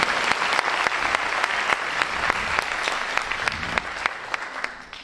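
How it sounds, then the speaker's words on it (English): Audience at a high school instrumental holiday concert applauding a student conductor, a steady wash of clapping with sharper individual claps, tapering off toward the end. "Can we give another round of applause to Caden?"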